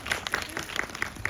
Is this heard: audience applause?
yes